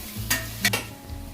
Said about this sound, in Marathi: कोल्हापुरी लाल तिखट अर्धा चमचा आणि मग परत ते मिक्स करायचं